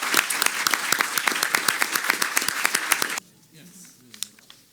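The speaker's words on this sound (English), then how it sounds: "join me in another round of applause for this first panel" An audience at an evening panel discussion on secondary sanctions applauds the first panel with steady, lively clapping that stops abruptly partway through, leaving quiet room sound and a few stray claps.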